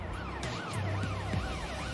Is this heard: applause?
no